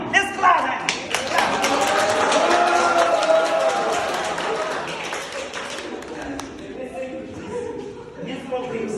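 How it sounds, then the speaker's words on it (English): Students in an online yoga class clap for a participant, giving a burst of scattered applause that swells and then thins out, while someone talks over it and continues speaking afterward. "Let's clap him."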